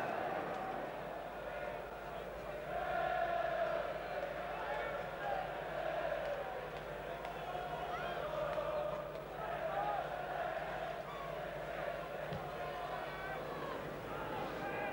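Football crowd at a Coventry City v Liverpool league match, a steady roar and murmur of many spectators filling the ground, continuous throughout with a few louder swells.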